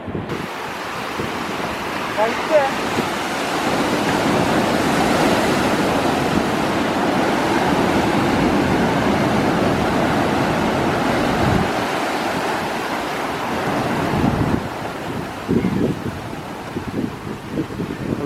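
Steady roar of sea waves and gusting wind buffeting the microphone at a pier in Thalassery, loud and continuous, with a brief lull and a few knocks near the end.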